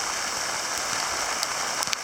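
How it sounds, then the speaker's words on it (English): Small ice pellets mixed with sleet fall in a steady, dense hiss with a few sharper ticks of particles hitting surfaces, close by, and no voices. "I think that's an ice pellet sleet hybrid here."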